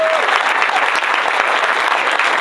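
A large town hall crowd applauds loudly and continuously, dense clapping filling the room without a break, no voices standing out.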